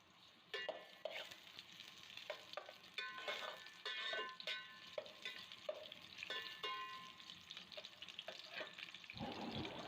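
Finely chopped onions frying in hot oil in a pot, crackling sizzle with sharp spattering pops and stirring scrapes at close range, ending in a louder clatter.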